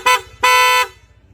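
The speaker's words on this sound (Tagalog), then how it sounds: "Sa busina ni Sir, ang ginabit po natin PIA horn po." PIA aftermarket horn fitted to a Honda ADV150 scooter gives two loud, bright honks, a short toot followed by a longer blast, close up and alone.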